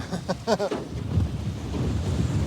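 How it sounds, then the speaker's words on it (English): Wind buffeting a microphone outdoors while fishing for kingfish, a low rumbling gust that swells and lingers after a brief voice at the start. "Oh, that wind! Yeah, it's getting windier."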